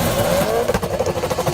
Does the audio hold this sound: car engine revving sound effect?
yes